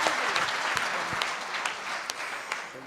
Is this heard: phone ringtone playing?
no